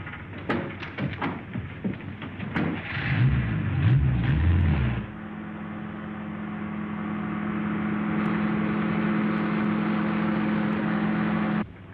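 An old truck engine starts with clanks and thumps, then settles into a steady running drone that grows slightly louder as it pulls away, in a war film setting.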